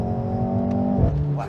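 A Mercedes-AMG C43 with a four-cylinder engine accelerates hard, its note climbing in a rising, strained rev before a quick shift drops the pitch and it pulls again, loud and close from inside the car.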